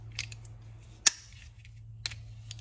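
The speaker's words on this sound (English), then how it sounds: "The clicking, the locking in action is firmer." Kobalt locking pliers from a three-piece set give two sharp, isolated clicks about a second apart, close and clear over a low steady hum and a few faint taps.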